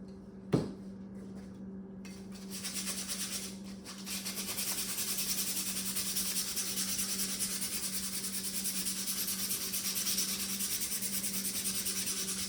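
Sandpaper of 120 grit rubbed over an old rusty woodworking tool that has been sprayed with WD-40. After an initial knock comes a steady, continuous scratchy rubbing with no talk.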